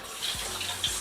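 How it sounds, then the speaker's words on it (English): Running tap water rinses a jar in a kitchen while making refrigerator pickles, a soft steady hiss of flowing water with a couple of faint low knocks, close and fairly quiet. "So I'm going to rinse it because it has water in it."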